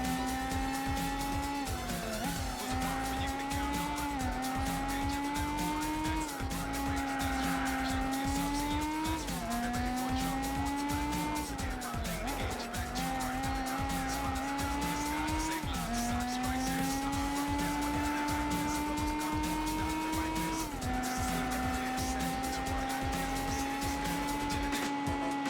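A race car in Gran Turismo 4 holds a steady, loud engine drone that rises in pitch through each gear and drops at every shift, with tire squeal on corners, a faint voice under it.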